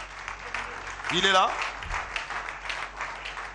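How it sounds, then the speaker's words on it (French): Audience applause at a gala evening, a broad wash of clapping running under a voice that speaks briefly over it. "On va applaudir très fort pour lui"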